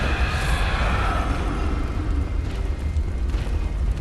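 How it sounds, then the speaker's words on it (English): Laurence the First Vicar's explosion attack in the Bloodborne video game: a heavy, low, roaring blast that rumbles on continuously, loud and close, with crackling fiery texture over the deep boom. "Watch out for those big explosion attacks he does."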